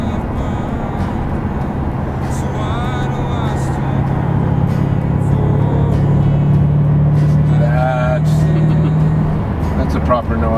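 A car engine with more than four cylinders rumbles low and steady under a voice that talks throughout, with the drone rising in the middle as the engine works harder.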